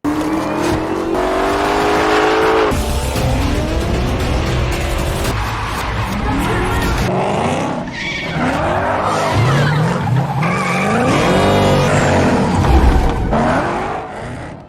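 A Ford Mustang pony car drives loudly nearby, its engine revving and dropping in pitch with sweeping changes and some tire squeal, continuous throughout with no talking.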